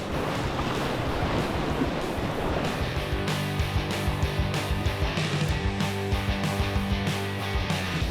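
Whitewater rapids on a river during a rafting run, a loud continuous rush of churning water close by with heavy wind buffeting.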